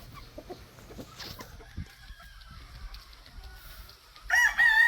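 An Abuhin breed chicken clucks softly and intermittently in a quiet coop, then a loud rooster crow bursts out near the end, close and clear.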